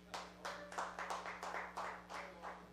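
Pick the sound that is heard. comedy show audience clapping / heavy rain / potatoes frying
comedy show audience clapping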